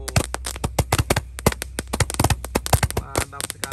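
Fireworks and firecrackers, including roman candles and rockets, burst at night in a rapid, irregular string of sharp, loud cracks and pops, some overlapping, with a steady low hum underneath.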